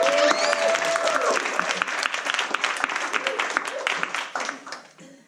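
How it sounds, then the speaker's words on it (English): An audience at a level 1 improv class show breaks into loud, dense clapping and cheering that gradually dies away over several seconds. "Give them a big round of applause."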